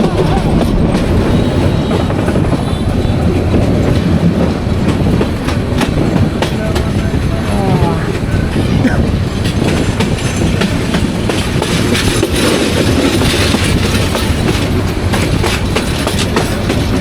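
The Bijoy Express rolls steadily along the rails after leaving Gouripur railway station in Bangladesh, a loud, continuous rumble with rhythmic clickety-clack from the wheels throughout.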